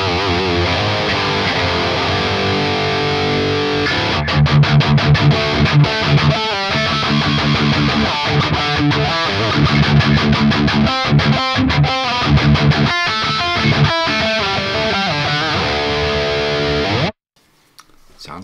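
A heavily distorted electric guitar through the Neural DSP Archetype Nolly X plugin chugs out a thick rhythm riff, loud and close, with palm-muted bursts and sustained chords, ending abruptly.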